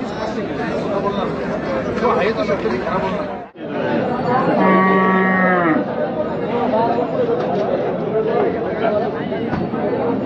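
Busy outdoor cattle market at Chakan with many people chattering, and a cow lowing once in a drawn-out moo amid the crowd noise.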